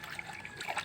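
Detergent being stirred by hand into a basin of water to wash a prayer rug, a soft continuous swishing and trickling of liquid, close and quiet, with no voices.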